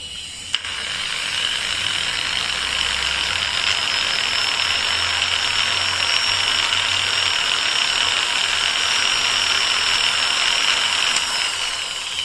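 A Total variable speed angle grinder, model TG109125565, runs steadily at its lowest speed setting, giving a continuous loud high whine that holds evenly for about twelve seconds with no talk.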